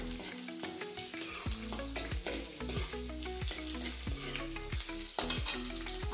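Green chillies fry over high gas heat for restaurant-style paneer chilli. Loud sizzling runs under a regular rhythm of utensil strikes and scrapes against the pan, with a low hum beneath and no talk.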